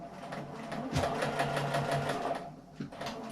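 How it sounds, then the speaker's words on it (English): A sewing machine top-stitching a seam on a fabric strap for a hand sanitizer pouch, whirring in a quick, steady run of needle strokes, then a brief slowdown and a short restart, close and fairly quiet. "I'm going to top stitch that seam"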